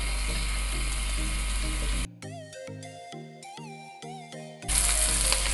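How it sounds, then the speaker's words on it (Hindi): Bell peppers frying in a pan over a high flame for chicken jalfrezi: a loud, steady sizzle opens and closes the stretch, broken in the middle by a short musical passage. "आपने तेज़ आंच पे आपने इसको भूनना है"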